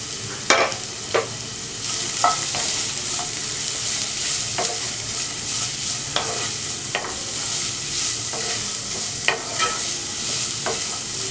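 A large onion sautéing in a pan, a steady close sizzle with repeated scraping stirs of a spoon at irregular intervals, with no talking.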